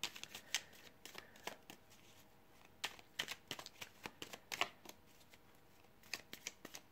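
Sibilla fortune-telling cards shuffled in quick, crisp riffles and flicks, a run of sharp papery snaps bunched in bursts over a quiet room with no talk.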